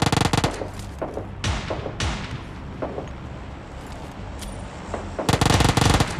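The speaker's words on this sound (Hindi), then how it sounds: "और अब आप लोग इन गोलियों की आवाज़ सुनना जरा" Rapid bursts of automatic gunfire from a PUBG Lite battle, loud clusters of shots at the start and end with scattered single cracks and distant pops between them, no talking.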